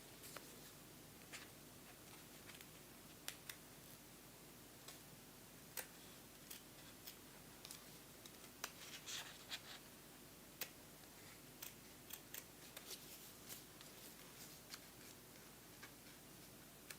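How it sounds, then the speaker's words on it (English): Sharp-tipped scissors snip fabric for a safari sunset textile wall hanging, producing scattered quiet clicks and snips at irregular intervals in a hushed room. "when you've got a nice pair of scissors like these that are really sharp to the tip, you can really get into those"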